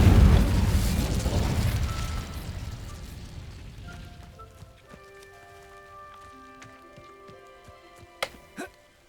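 Incendio fire spell from a video game: a loud whooshing burst of flame that roars at the start, then crackles and fades over several seconds, leaving faint chimes and a couple of sharp pops near the end.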